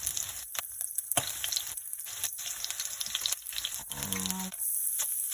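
Onion and garlic sizzle steadily in a hot pan, with stirring clatter and scrapes breaking through the close, loud frying.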